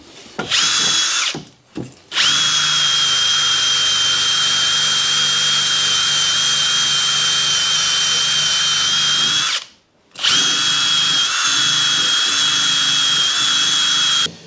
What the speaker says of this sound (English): we're going to wire brush this down and see how it turns out